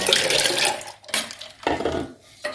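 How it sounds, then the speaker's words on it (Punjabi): Ice-cold water is poured close-up into a summer drink made with milk and Rooh Afza, splashing loudly in three short bursts with brief pauses between them and no talking. "ਤੇ ਹੁਣ ਆਪਾਂ ਇਹਦੇ ਵਿੱਚ ਪਾ ਦਾਂਗੇ ਬਰਫ਼ ਵਾਲਾ ਪਾਣੀ"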